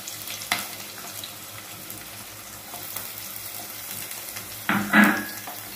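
Onions dropped into very hot oil for a mushroom curry: a quiet low sizzle, then a sudden louder burst of hissing spatter near the end that quickly settles back.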